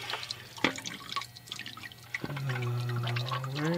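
Coolant dripping and trickling from a leaking 2007 BMW X3 cooling system into a pan, scattered close drips followed by a steadier pouring flow of liquid, moderately quiet, with no talk.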